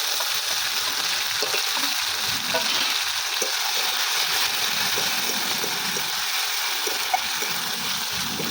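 Ground spice paste of chilli, green chilli, cumin, ginger and garlic sizzles steadily in a hot pan, a constant close hiss with faint stirring scrapes and no voices.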